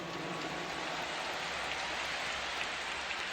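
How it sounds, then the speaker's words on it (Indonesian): At a large outdoor campaign rally in a stadium, a crowd claps at a distance in a continuous, hissing, rain-like wash of applause that stays steady and fairly soft throughout. "Tepuk tangan buat semua yang hadir di sini."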